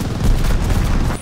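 Sustained machine gun fire in the Call of Duty: Vanguard campaign: a dense, rapid stream of loud gunshots with booming low-end blasts, continuing almost without pause and dropping off slightly at the end.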